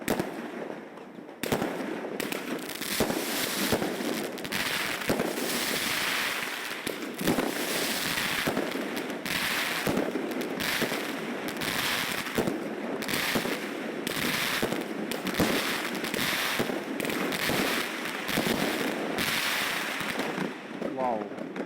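New Year's night fireworks and salutes over Yakutsk on 1 January, a dense, continuous barrage of loud bangs and crackling bursts lasting throughout, with no gaps between explosions.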